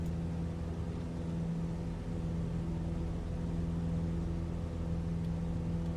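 A small propeller aircraft in flight gives off a steady droning engine hum, constant and even in level, with no voices over it.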